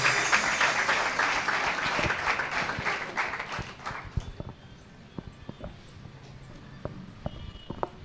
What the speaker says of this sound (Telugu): చప్పట్లు కొడుతూ దేవుని నామాన్ని మహింపరుద్దామా?